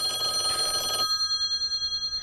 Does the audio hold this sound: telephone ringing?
yes